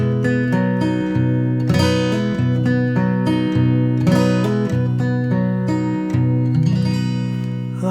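An acoustic guitar plays a folk turnaround between verses, plucked notes and strummed chords in a relaxed rhythm with ringing open strings, close and clear with no talk.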